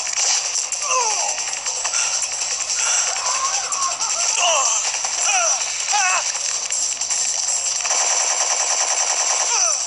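Rapid gunfire bursts crackle through a dense, constant game soundtrack in Metal Gear Solid 3D Snake Eater, with repeated shots and impacts layered over music and effects, loud and busy throughout.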